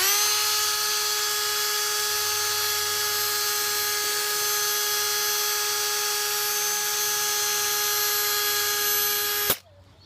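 A Honda Civic headlight is sanded with P800 grit on a power sander, producing a loud, steady high-pitched whine and hiss that runs unbroken for about nine seconds before cutting off sharply.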